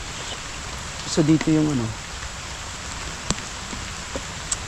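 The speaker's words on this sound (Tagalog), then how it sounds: "Lakas ng ulan eh." Steady heavy rain pouring outdoors at a lagoon, a continuous hiss of drops with a few sharper taps, while someone talks briefly near the start.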